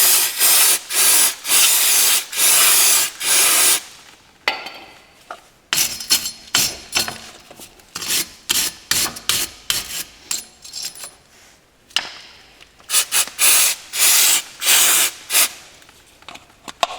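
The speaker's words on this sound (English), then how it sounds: "clean the hub as good as you can with some brake cleaner and a metal brush" Brake cleaner sprayed onto a Subaru Legacy front wheel hub in loud, close hissing bursts, alternating with the scratchy scrubbing and clinks of a metal brush working the metal surface, repeated several times.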